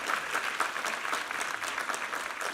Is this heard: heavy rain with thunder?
no